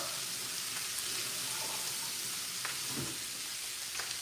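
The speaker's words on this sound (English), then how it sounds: "the sausage is only going to take a few minutes, like 10 minutes to cook" Sausage cooking in a frying pan, a soft steady sizzle and crackle heard from a little distance, with a faint knock or two, no voices.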